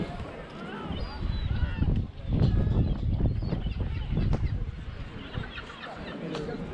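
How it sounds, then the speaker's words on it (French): Seagulls crowd Essaouira harbour where fish are being gutted, their harsh cries overlapping continuously and fairly close among other bird calls and general harbour noise, with voices talking through the scene. "il y a 1 milliard de mouettes"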